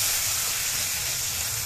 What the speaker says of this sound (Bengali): এবার এর মধ্যে দিয়ে দিচ্ছি টমেটো কুচি